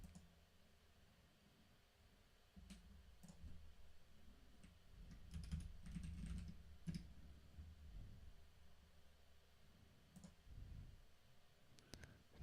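Quiet clicking of computer keyboard keys during an online typing test, with soft irregular taps running steadily through the stretch at low level, a few sharper clicks standing out.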